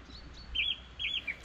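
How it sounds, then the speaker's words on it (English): Song thrush singing on a hiking route through Glen Affric and Kintail, Scotland, giving bright, clear whistled phrases in two or three bursts, close and loud over a faint outdoor hush. "That song thrush is going for it."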